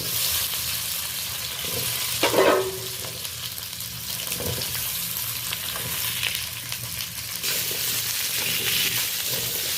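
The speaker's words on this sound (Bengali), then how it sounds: "মিষ্টি আলু, সজনে ডাঁটা আর প্লেন আলু প্রথমত আমি কড়াইতে দিয়ে দিয়েছি, 2 চামচ তেল দিয়ে ভালো করে নেড়ে নিচ্ছি" Sweet potato, plain potato and drumstick pieces fry in a little oil in a wok. A steady sizzle runs throughout, and brief scraping stir sounds come through near the two-second mark.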